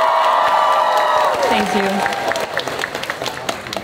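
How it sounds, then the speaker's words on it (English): An audience at a dance competition claps and cheers, loud at first and then thinning out into scattered claps and shouts, while a voice speaks briefly over it. "Can I please have an extra, extra hard applause for that one"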